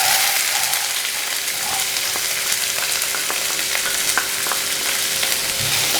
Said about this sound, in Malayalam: എന്നിട്ട് നമുക്ക് എടുത്ത് വെച്ചിരിക്കുന്ന സവോള ഇതിനകത്തോട് ചേർത്ത് കൊടുക്കാം.